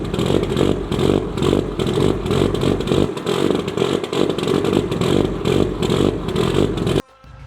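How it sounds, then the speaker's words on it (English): A car engine run by a Link ECU gives an aggressive, lumpy rally-style idle, loud and close with a steady choppy pulse for about seven seconds before cutting off abruptly. "It creates a rally car sort of idle, or what you might have experienced from a car with very lumpy cams"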